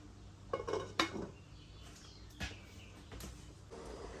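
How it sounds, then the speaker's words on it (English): Metallic clinks and a clattering knock of a lid set onto a pot of black beans, followed by a soft clank, over a low kitchen hum. "Now I'm going to put the lid on and let it boil."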